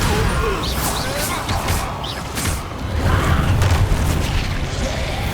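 A Bombarda spell explosion from Hogwarts Legacy bursts loudly in repeated booming, crashing impacts over a rumbling spell-combat din.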